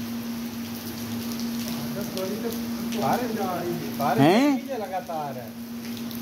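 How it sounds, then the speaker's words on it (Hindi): Heavy rain falling in Makkah, a constant hissing patter under someone speaking, with a steady hum also present and the rain steady throughout. "अभी ये देखें बारिश और आई है"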